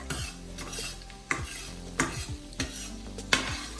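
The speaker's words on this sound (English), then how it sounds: "You're going to saute the garlic" Fresh garlic sautés in a pan for fettuccine Alfredo sauce, with a soft sizzle under several sharp clanks and scrapes of a utensil stirring against the pan at irregular intervals.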